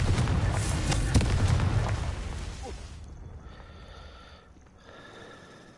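A fiery Confringo spell blast in Hogwarts Legacy, a loud rushing burst in the first two seconds that fades into a long, dwindling tail with faint shimmering tones.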